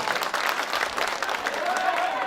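An audience at a mushaira poetry gathering claps in a steady, dense round of applause that keeps an even level throughout, with a voice faintly audible underneath.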